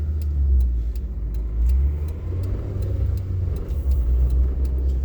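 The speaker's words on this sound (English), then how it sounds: "Does the engine sound quieter now that I put some oil thickener in?" A car engine treated with oil stabilizer hums steadily while driving, a low rumbling drone with road noise and faint periodic ticking, continuous and fairly close.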